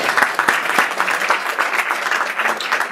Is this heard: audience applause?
yes